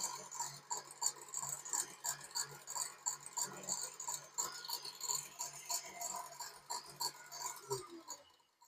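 Cherry macaron batter with added food coloring being mixed by hand, a steady soft scraping and rubbing of spatula against the bowl with a quick repeated rhythm, close and fairly quiet, no voices.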